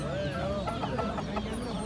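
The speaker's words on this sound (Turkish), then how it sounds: "Burada da bir Hint horozumuz var." A turkey gobbles in short, throaty bursts over busy market chatter and background bustle at a poultry market in Osmaniye, fairly close and steady.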